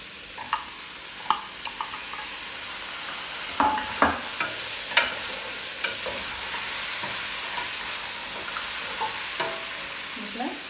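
Tomatoes fry in a pan for kulai sadham with a soft, steady sizzle, broken by sharp scraping knocks as a spoon stirs them, close and moderately quiet.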